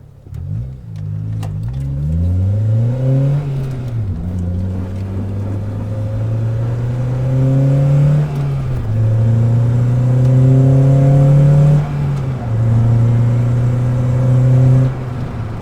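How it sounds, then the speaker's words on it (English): A Honda Accord CL7/CL9 engine with a Hondata reflash revs up repeatedly through several gears, pitch climbing then dropping with each shift, loud and close with steady road rumble underneath. "I'm driving the car now, like even just cruising."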